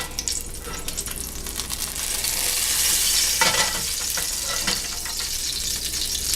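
Veal sizzles steadily in a pan over medium heat, a dense close crackle that swells midway with a few sharper spits and stirring scrapes, no talking.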